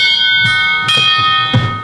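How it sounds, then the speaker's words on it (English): An authentic wired doorbell chime on a weak 12-volt adapter rings out with bright, sustained metallic tones, struck again with short clicks so the ding and dong run together, loud and close. "it just goes ding dong straight away because it can't hold the ding"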